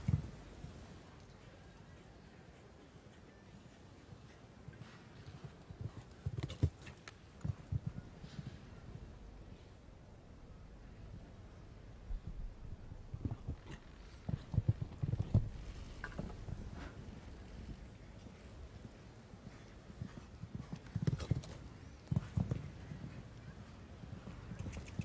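A show jumping mare's hooves thud on the arena at the Aachen Grand Prix in irregular bursts of muffled clip-clop, moderately distant, while a commentator talks at times.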